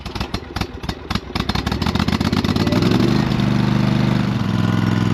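A small lawn tractor engine idles close by, a steady loud mechanical drone with a fast rhythmic clatter that smooths into an even hum partway through, with no talking.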